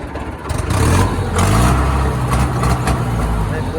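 An Arjun tractor's diesel engine turns over and settles into a loud, steady running rumble, close by, with a brief quieter moment before it catches.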